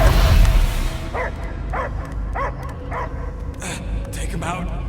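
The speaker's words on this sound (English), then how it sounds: "I hear only barking" Guardians of the Galaxy video game: a dog gives a run of evenly spaced barks and yips, about six in a row, set against a dense game soundscape with voices talking underneath.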